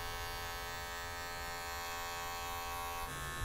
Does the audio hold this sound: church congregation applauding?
no